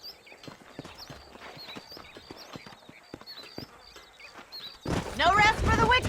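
Horse hooves clip-clop in a steady walking rhythm across open ground in the Red Dead Redemption Western game, moderately close. Near the end a louder voice breaks in and partly covers the hoofbeats.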